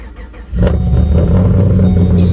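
A Pontiac G8 fitted with aftermarket heads and cam starts up and revs hard, a sudden loud low-pitched roar that settles into a lumpy, throaty idle close to the microphone.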